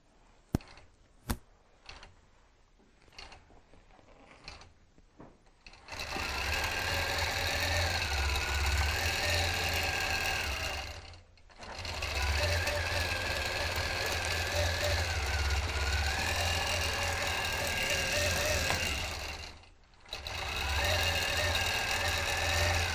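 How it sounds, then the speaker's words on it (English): A sewing machine stitches: a few light mechanical clicks, then a loud, steady motor whir with rapid needle chatter that pauses briefly twice before resuming. "Can you increase the speed while it's stitching?"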